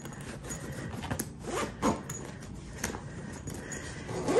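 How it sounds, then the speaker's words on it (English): A packed suitcase being zipped closed with one hand, short rasping zipper pulls in uneven bursts with pauses and light rustling, close and moderately loud, no talking. "I'll just zip this closed"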